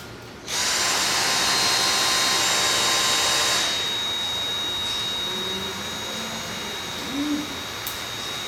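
Two Dyson cordless stick vacuums, a V8 and a V6, start together with a loud steady high-pitched whine; after a few seconds one cuts out and a quieter, lower steady hum carries on alone.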